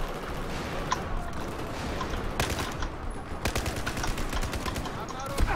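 Gunfire and explosions crackle across a Battlefield 4 battle, with dense bursts of rapid automatic shots and sharp loud cracks coming in quick succession and heavy rumbling between them.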